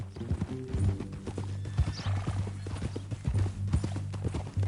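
Steady clip-clop of horse hooves in Red Dead Redemption 2, a loud, even walking rhythm running through the whole stretch with a low engine-like hum beneath and a brief whinny.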